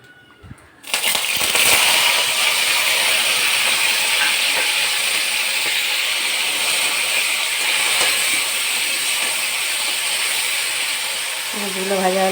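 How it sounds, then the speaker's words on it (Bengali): Fish drop into hot oil and start frying, a sudden loud burst of sizzling after a quiet start that settles into a steady crackling hiss, with a voice briefly at the end. "তেল গরম হয়ে গেছে, এবার মাছগুলো ছেড়ে দেবো।"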